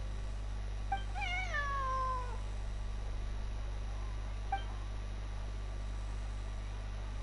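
A cat in the video game Genshin Impact gives one clear, drawn-out meow that falls in pitch, followed a few seconds later by a short faint chirp, all over a steady low hum.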